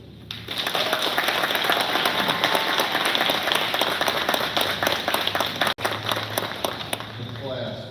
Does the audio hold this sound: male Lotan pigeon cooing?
no